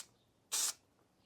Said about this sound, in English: I'm going to spray some spray glue onto here